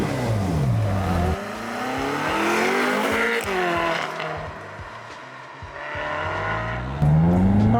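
A 2009 Ferrari California engine starts and revs, loud and close, with a deep, rising and falling exhaust note that climbs through several revs and then settles.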